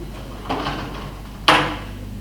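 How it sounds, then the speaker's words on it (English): A door in a meeting room is closed, a faint first bump followed a second later by a louder, sharp thud that decays quickly against a low room hum. "Could you shut that door, please?"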